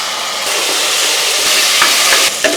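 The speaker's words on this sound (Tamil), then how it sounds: "வெங்காயம் பாதி அளவுக்கு வதங்கிடுச்சு இப்போ இஞ்சி பூண்டு பேஸ்ட் சேர்த்துக்கலாம்" Onion and ginger garlic paste sautéing in hot oil for a chayote gravy, giving a loud continuous sizzle with a few faint stirring scrapes near the end, and no voices.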